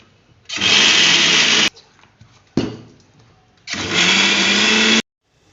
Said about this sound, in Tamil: மிக்சி ஜாரில் போட்டு ஒரு சுற்று சுற்றிட்டு பல்ஸ் மோடில் ஒரு சுற்று சுற்றிட்டு ஊற்றணும்